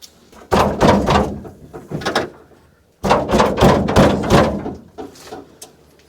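A stuck door on an old REO vehicle being forced, heavy thuds, bangs and scraping in two bursts separated by a brief pause, loud and close.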